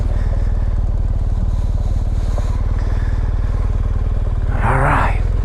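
A 2018 BMW GSA motorcycle engine runs at a steady, loud idle-like drone close to the microphone, with a brief rising rev near the end as the bike pulls off.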